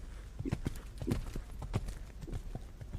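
Horse hooves canter in a medium canter during a junior eventing dressage test at the European Championships, a rhythmic three-beat pattern of soft thuds on the arena surface, moderately distant.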